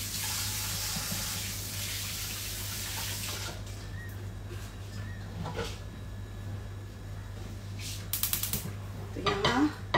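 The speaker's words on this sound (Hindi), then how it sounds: "एक मिनट में हाथ धो लूं" Hands are washed under a running kitchen tap: a steady rush of water lasts about three and a half seconds, then cuts off, followed by light clatter and clicking.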